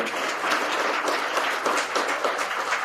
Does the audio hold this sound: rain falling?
no